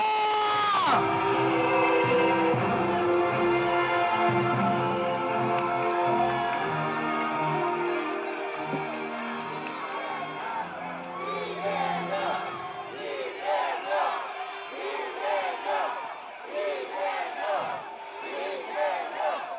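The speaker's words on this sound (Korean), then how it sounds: "뜨거운 박수와 함성을 부탁드립니다." A large crowd at an outdoor political rally in Incheon cheers and claps loudly, with whoops rising over sustained applause; the roar swells again toward the end.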